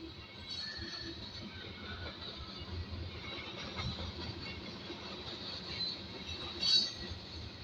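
A CSX freight train passes at a distance, giving a low continuous rumble with faint wheel squeal and rail clatter, and no voices over it.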